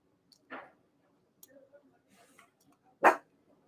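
A dog barks twice, a short bark near the start and a louder, sharper one about three seconds later, with faint scattered sounds between and no talk.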